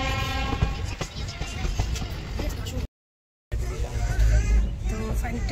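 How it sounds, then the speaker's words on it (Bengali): A passenger train pulls away with a continuous low rumble, rhythmic wheel clatter and squeals, fairly loud and close, interrupted by a short silent gap before the rolling noise returns. "ট্রেন ছেড়ে দিয়েছে"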